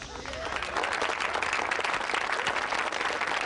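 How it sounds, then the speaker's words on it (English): A theater or ceremony audience, apparently at a school awards event, breaks into sustained applause, dense and steady clapping that swells in and holds loud throughout, with faint voices mixed in. "please hold your applause until the end"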